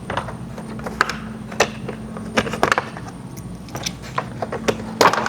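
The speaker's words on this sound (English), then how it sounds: "So all these clips, you have to actually push on top of them to disconnect them." Plastic trim clips on a 2024+ Toyota 4Runner grille are pressed down to release them, producing a scattered series of small sharp clicks and snaps close by, with faint handling noise between them.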